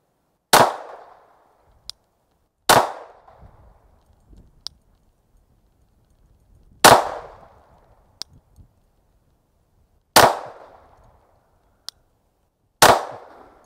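Pistol shots fired at a target ring out one at a time, five sharp, loud cracks spaced a couple of seconds apart, each with a short decaying tail and faint metallic clicks between them.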